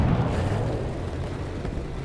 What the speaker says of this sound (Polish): tutaj domki się nie rozwalają od strzału i ten pocisk poszedł niepotrzebnie